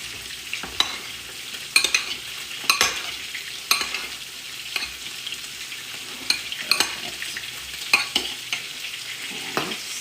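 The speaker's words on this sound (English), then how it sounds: "We're going to give it a little stir." Salmon stirred in a pan with olive oil, balsamic vinegar and garlic salt: a steady close sizzle with repeated sharp utensil scrapes and taps roughly every second, no voices.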